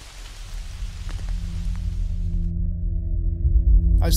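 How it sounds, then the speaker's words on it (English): Heavy rain in a forest during a storm, a dense steady wash of drops with a low rumbling undertone that swells louder toward the end, with no voices. "As the storm was battering us with wind and rain, Sean, sitting cosy in his little tent"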